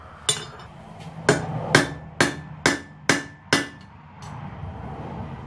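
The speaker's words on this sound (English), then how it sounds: "Start setting our rivet." Seven sharp hammer blows ring out one after another at a steady pace, setting a hot rivet while assembling a pair of blacksmith's kit tongs at the forge, each strike close and loud with a metallic clang.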